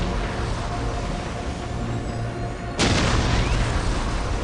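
Heavy Ork artillery fire in the Dawn of War strategy game: a deep, continuous rumbling barrage that jumps abruptly louder into a sharp burst near the end, with no talk.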